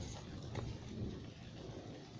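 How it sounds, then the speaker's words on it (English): Heavy rain pours steadily during a thunderstorm, a dense continuous hiss with a low rumble underneath and no voices. "Now it's really raining."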